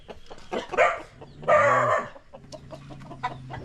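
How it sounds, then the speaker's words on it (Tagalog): Chickens clucking and a large rooster crowing nearby in two loud bursts, followed by softer scattered clucks against a low background hum. "Ayan ito, may malaking manok."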